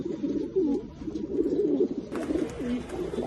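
Jabra pigeons coo in a steady run of soft, rolling calls, close and continuous, with a rise in background hiss partway through and no voices.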